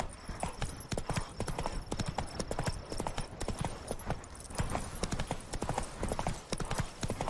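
Roach the horse galloping in The Witcher 3, a fast steady clip-clop of hooves over ground running without a break against faint background ambience.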